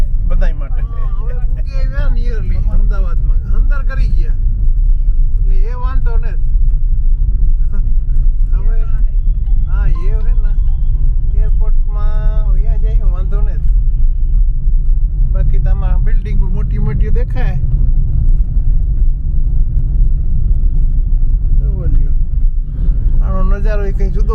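Road traffic on a drive back to the UK: a loud, constant low engine and tyre rumble fills the whole stretch, with people talking over it throughout.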